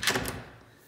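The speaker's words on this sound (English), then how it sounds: "I don't think I've opened this door yet." A closet door in a luxury home swings open with a short burst of close rattling and sliding at the start, then fades quickly into quiet room tone.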